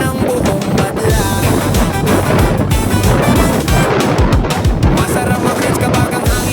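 Steady, loud wind roars against the microphone on a motorcycle road trip toward Naga City, a constant broadband rush with low rumble underneath and no speech.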